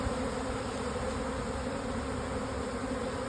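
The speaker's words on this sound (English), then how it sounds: "bees are trying to get in the top there" Honey bees swarming around a nuc hive, a dense, steady buzz close up that holds evenly throughout with no voices.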